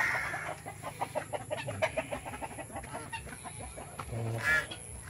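Rhode Island Red heritage chickens cluck in a backyard farm, with a busy run of close, repeated clucks and short calls and a brief louder squawk near the end.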